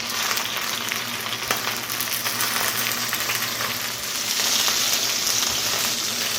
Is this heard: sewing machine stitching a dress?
no